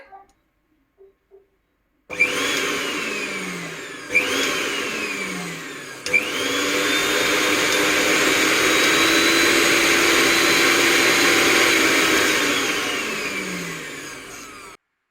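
A Butterfly Hero mixer grinder whirs loudly, starting and stopping twice in short bursts before running steadily for several seconds, then winding down.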